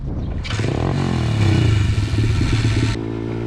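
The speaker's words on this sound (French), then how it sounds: "Ensemble avec Altunbek, on a fait des courses à moto" Motorcycle racing in rural Kazakhstan, a loud nearby engine droning and revving with rising pitch, rattling and clattering throughout before easing off near the end.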